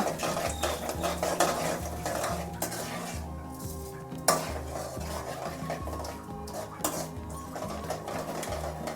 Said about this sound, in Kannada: ಇವಾಗ ಉದ್ದಿನಬೇಳೆ ಎಲ್ಲ ಫ್ರೈ ಆಗಲಿ ಸ್ವಲ್ಪ